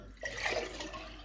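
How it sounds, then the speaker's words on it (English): Green apple and rosemary juice is poured into a large glass, a short, quiet liquid splash and trickle heard alone. "So we pour this into this huge glass."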